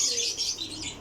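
A Lakha pigeon of the Nankana Sahib breed coos softly under a steady bright hiss of background noise in a loft or yard, the call low and faint.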